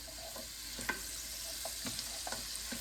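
A tomato and bread soup base sautés quietly in a pan while a utensil stirs it, soft scraping strokes recurring every half second or so over a faint steady sizzle.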